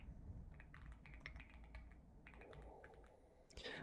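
Rapid, steady keystrokes tap on a computer keyboard, close and quiet, in irregular bursts with a few brief pauses and a louder clack at the end, with no talking.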